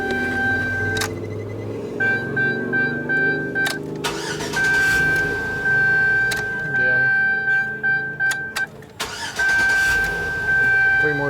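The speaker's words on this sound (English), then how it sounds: "let's crank this thing again. And she still cranks right on up again." A car engine cranks and fires up on a JF.EGWO 6000A jump starter, repeating several times in a row: short starter whirs that catch into idle, with intermittent beeping tones and someone talking over it.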